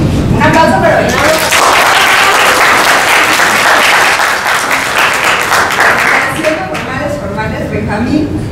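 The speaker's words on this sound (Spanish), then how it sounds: "Un aplauso para Benjamín." Sustained, loud audience applause for Benjamín, a 22-year-old trans man, at a SUMATTTE event on the right to education for trans people, dense and steady throughout before easing slightly near the end.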